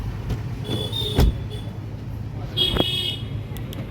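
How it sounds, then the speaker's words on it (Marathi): A Mercedes-Benz GLS 400 d locks with two short, bright electronic chirps, each with a soft click and about 1.5 seconds apart, over a low idling rumble nearby. "हे बघा, आता गाडी लॉक झाली"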